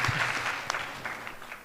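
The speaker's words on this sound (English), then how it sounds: "Let's give her a round of applause to encourage her." Audience applause at a regional trade panel discussion, a brief, moderately quiet patter of clapping hands from a seated crowd that tapers off after a second or so.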